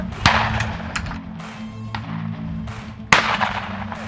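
Shotguns fire at sporting clay targets during an NSCA/TSCA sporting clays match at an outdoor park in Austin, Texas, with a few sharp reports, some distant and one loud and near, over steady outdoor background.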